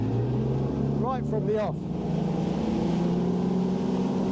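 Iron Boats 827 motorboat under hard acceleration out of the hole, a loud, steady engine roar with wind and water rush, someone speaking briefly over it near the start.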